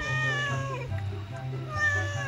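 A cat meows at a campsite, a drawn-out, wavering cry heard close by, with people talking in the background.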